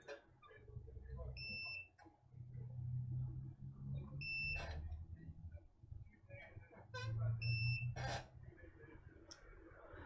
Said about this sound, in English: I was getting some beeps off the negative side of the capacitors